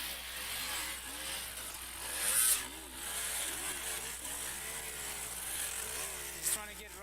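Off-road enduro motorcycle engine revving hard while climbing a steep rocky hill during Red Bull Romaniacs hard enduro racing, a steady loud drone with a brief surge midway and another short spike near the end.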